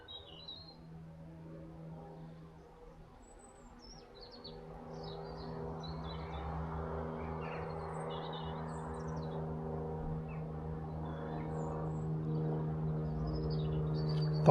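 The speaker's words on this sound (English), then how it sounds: "By rights, there ought to be a yellow-browed warbler here somewhere." A yellow-browed warbler calls from a sycamore canopy, giving several faint, thin, high notes scattered over a steady low outdoor rumble, distant and intermittent.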